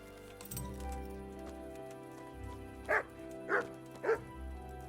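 Dog in the video game Kingdom Come giving three sharp, evenly spaced barks near the end, close and clear over a low ambient game soundtrack.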